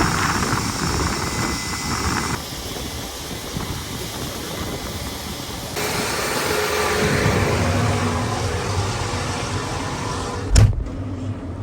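Combine harvester unloading soybeans into a grain cart, a steady loud mechanical drone of engine and auger running continuously throughout, with wind noise over the microphone and a brief bump near the end.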